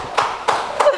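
Three sharp hand claps ring out at a steady pace, close and fairly loud, each a short crisp burst.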